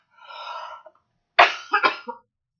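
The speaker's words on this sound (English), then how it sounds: "Excuse me, I have to cough." A soft throat-clearing rumble, then a sharp, close cough followed by a couple of smaller coughs trailing off into silence.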